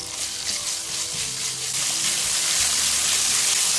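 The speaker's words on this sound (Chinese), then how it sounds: "把这个葱姜蒜倒下去，辣椒干倒下去爆香，炒出蒜香味" Scallion, ginger, garlic and dried chilies stir-fried in hot oil in a wok, giving a steady, loud, unbroken sizzle throughout with no talking.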